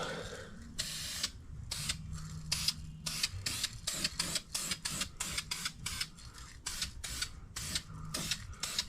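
An aerosol spray can paints door parts on a 2002 Ford F350 during rust repair, firing a rapid series of short, sharp hissing bursts with brief pauses between, held close to the metal.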